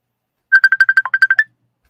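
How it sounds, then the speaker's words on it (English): A phone ringtone for an incoming call: a quick run of about eleven bright electronic beeps lasting roughly a second, loud and close, set against silence. "we have a phone call coming in"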